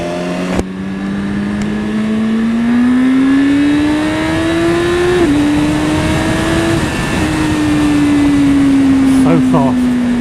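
A 2015 BMW S1000RR superbike engine pulls hard while riding, its loud rising whine climbing steadily through the gears with a brief shift dip, close and continuous over wind rush.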